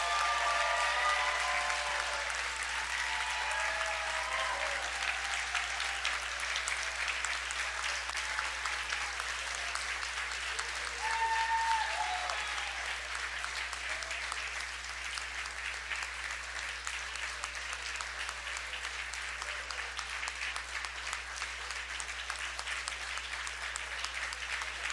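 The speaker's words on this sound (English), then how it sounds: "Let's give them one last round of applause." Commencement audience applauding occupational therapy graduates, a large hall filled with steady, sustained clapping that carries on evenly throughout with a faint low hum beneath.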